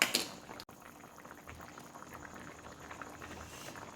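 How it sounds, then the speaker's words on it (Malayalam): Fish chili curry bubbling in a pot, a steady close burble of boiling liquid with popping bubbles throughout, no talking, after a brief clatter at the start. "നല്ല തിളച്ച് നെയ്യൊക്കെ തെളിഞ്ഞ് വന്നിട്ടുണ്ട്"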